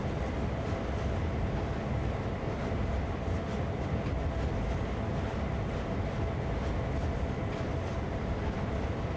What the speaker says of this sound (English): The locomotive will slow down on its own because we are going uphill